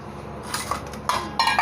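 A metal spoon knocks and scrapes against a cooking pot while rice for chicken tikka biryani is stirred, giving a few sharp clinks and scrapes over a quiet kitchen background.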